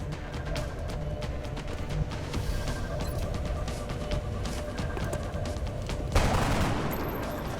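Rapid gunfire from a soldier's weapon in XCOM: Enemy Within rattles on as a dense, continuous volley of sharp shots with no pauses, ending in a louder burst near the close.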